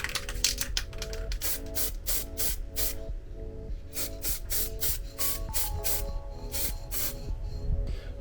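Short bursts of aerosol spray paint in satin black coat RS200 bonnet hinges, a rapid series of close, loud hissing blasts with brief gaps between them.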